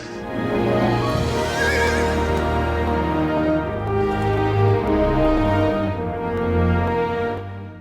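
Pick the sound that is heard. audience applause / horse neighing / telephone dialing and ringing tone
horse neighing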